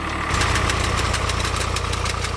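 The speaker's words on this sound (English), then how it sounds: "sets the plain astir with the sound of engines scoring the vineyards" An engine working in a vineyard kicks up to a louder, steady throb after a brief quieter start and keeps chugging with a regular pulsing beat.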